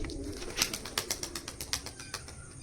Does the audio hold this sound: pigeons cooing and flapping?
yes